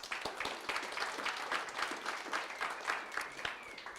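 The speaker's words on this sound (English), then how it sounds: "Please give her a round of applause." An audience applauds after a presentation at an astronomy talk series, a steady patter of many clapping hands at moderate, roomy distance, holding evenly throughout.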